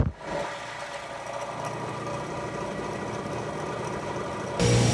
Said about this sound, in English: we're gonna use the old Bridgeport milling machine to cut that slot we need